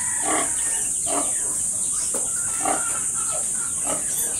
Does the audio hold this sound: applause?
no